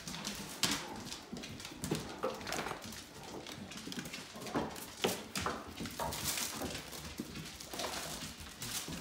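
Great Dane dogs moving about a room, with scrabbling paws, thumps and soft whimpers in irregular bursts, fairly faint and close.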